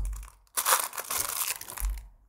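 A plastic packet holding fuzzy ears for a ball-jointed doll is torn open, giving a loud, close run of crinkling and crackling that lasts over a second.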